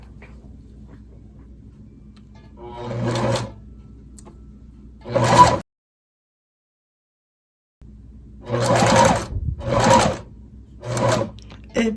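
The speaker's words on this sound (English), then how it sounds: "I'm going to hold the zipper right here and my fabric and begin to sew." A sewing machine stitches a zipper onto fabric in short runs of steady mechanical whirring, stopping and starting with a pause of near silence in the middle, close and clear.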